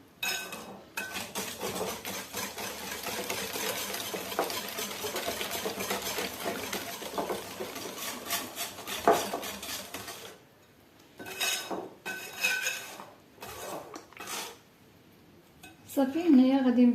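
A spoon or whisk works cocoa cookie dough in a bowl, giving steady scraping and clinking against the bowl for about ten seconds, then shorter bursts of stirring with pauses.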